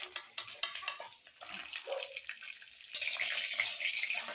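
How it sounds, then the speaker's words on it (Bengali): Spiced food being stirred in a pan makes close, steady scraping and light sizzling, with a rushing, water-like hiss growing louder toward the end. "আরেকবার নেড়ে দিচ্ছি।"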